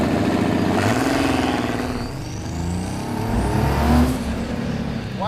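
A junkyard 4.3-liter Chevy V6 with a Ford diesel pickup turbocharger, fitted in a 1971 Datsun 240Z, revs loudly and continuously, the engine note rising and falling through two surges with no talk over it.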